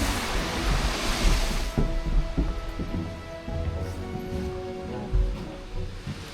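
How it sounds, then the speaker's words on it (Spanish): A waterfall in the Himeji Castle garden gives a steady rush of falling water, loudest at the start, with scattered soft knocks and thuds over the continuous wash. "Mira la cascada,"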